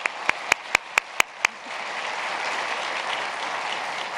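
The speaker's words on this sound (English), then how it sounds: "We have to give him another round of applause." Audience applause at a college opportunity summit, opening with six loud, evenly spaced claps up close before settling into a steady, dense wash of clapping from the crowd.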